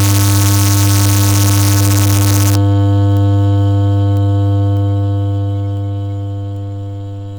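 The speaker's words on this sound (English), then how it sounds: "Like we're here right now, this is a sine wave." A pure sine test tone played through a woofer during frequency response testing, heard as a loud, steady low hum with faint harmonic overtones, holding alone and tapering slightly toward the end.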